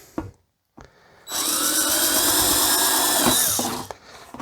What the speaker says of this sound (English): So I like to use a simple drill.